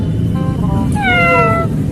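A voice imitates a kitten meowing, with two short rising-falling mews over a low background rumble.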